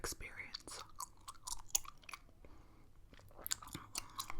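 Gum chewed close to the microphone in an ASMR style, producing steady, wet smacking and clicking mouth sounds with soft, crisp snaps, fairly quiet and continuous, with a voice in the background.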